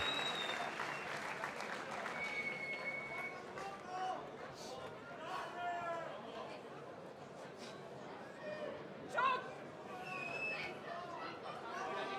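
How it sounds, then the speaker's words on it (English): Crowd applause and cheering at a live fight event, sustained clapping heard at moderate distance with chatter and commentary voices over it. "let's have a huge round of applause for the 5th and final round"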